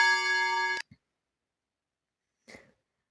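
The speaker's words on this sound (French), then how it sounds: "Quand la cloche de la citadelle sonne pour annoncer le repas" A citadel bell rings to call people to a meal: a bright, ringing tone sounds for under a second and then cuts off abruptly, followed by near silence and a faint brief sound.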